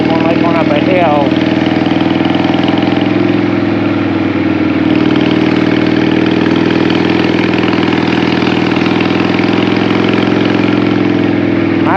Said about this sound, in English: This bike here is a little loud when you get under any acceleration